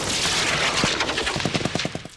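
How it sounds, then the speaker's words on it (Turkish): Soldiers fire machine guns from their positions during a military coastal defense exercise, producing a rattling burst of rapid shots over a loud, rushing background. "Askerler konuşlandıkları mevzilerden temsili düşmanı ateşe tuttu."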